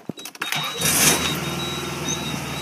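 An Isuzu Trooper engine starts with a few quick clicks and a cranking burst, then settles into a steady idle while running with its engine computer unplugged. It is close and loud, with no talking.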